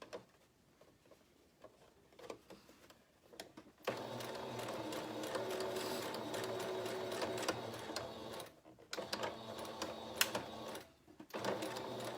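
A sewing machine stitches ribbon onto a fabric face mask in quick, rattling runs: a few short taps, then a long continuous burst, a brief pause and more stitching bursts close by.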